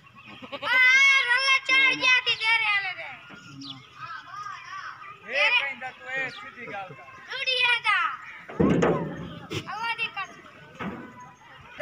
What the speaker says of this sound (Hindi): 6वें नंबर वाला बकरा।